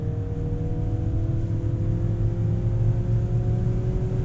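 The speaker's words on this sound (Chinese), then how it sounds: "那用这个4气缸 Turbo 引擎搭配9速自动变速箱来驱动它" A 2025 Mercedes GLC Coupe plug-in hybrid's 4-cylinder turbo engine with a 9-speed automatic holds a steady, loud drone from inside the cabin, with no talk over it.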